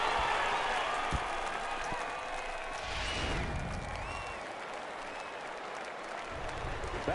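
A home stadium crowd in the baseball video game MLB The Show 19 cheers and applauds in a dense, sustained roar with a swell near the middle, filling the whole stretch.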